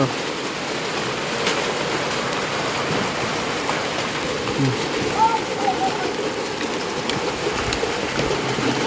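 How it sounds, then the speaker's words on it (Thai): Heavy rain pours steadily behind a house during a storm, a dense, continuous hiss of water on surfaces close by. "ฝนตกพี่น้องเนาะฝนตกแห้ง เบิ่งบรรยากาศน้ำกันพี่น้องเนาะ"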